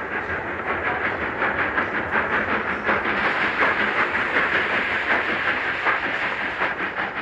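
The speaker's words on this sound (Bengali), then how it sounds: "অবশেষে যথাসময়ে ট্রেন প্ল্যাটফর্মে এলো।" A train rumbles steadily close by, with rhythmic clacking of wheels on rails and a hissing wash of noise throughout.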